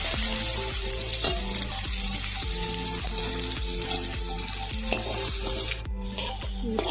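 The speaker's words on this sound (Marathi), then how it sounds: "मिक्स करून कांदा लाल होईपर्यंत" Onion fries in a pan with kasuri methi, a constant close sizzle broken by steady, rhythmic knocks of a spoon stirring against the metal, with no one speaking.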